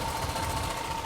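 Steady, close engine drone of a farm tractor running, a continuous low rumble with a thin whine on top, alone with no voices.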